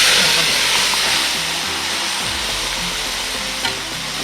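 Marinated beef, rested in masala for about 45 minutes, sizzles and fries steadily in a pan for Kerala-style beef peralan, a loud continuous hiss with faint stirring scrapes throughout.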